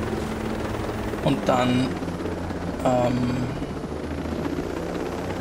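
Helicopter in the video game Ghost Recon Breakpoint, a steady rotor drone running throughout at moderate level, with someone talking briefly over it.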